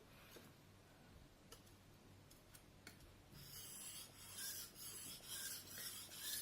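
Kitchen knife honed on a Suehiro #1000 grit splash-and-go whetstone: soft, smooth rasping strokes with scattered light ticks, growing into steadier, louder scraping in the second half, close and without talk.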